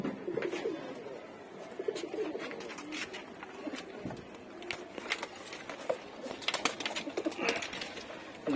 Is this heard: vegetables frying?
no